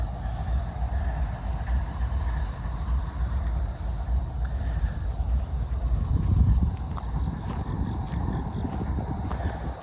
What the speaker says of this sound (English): Apologize if the noise of the train in the background is loud.